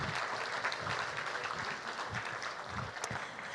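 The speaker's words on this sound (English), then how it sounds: "Let's have a round of applause for all of those sponsors." An awards gala audience applauding the sponsors, a sustained round of clapping from many people in a hall, even and moderately loud with a few sharper claps standing out.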